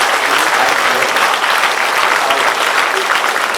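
A big round of applause from an audience at a leadership and career talk, dense, loud and sustained clapping throughout with no pause.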